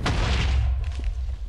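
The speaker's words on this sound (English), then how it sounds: "Creepers actually cause explosions upon death." A creeper explodes in Minecraft with a single loud, close boom that decays into a rumbling tail over a second or so.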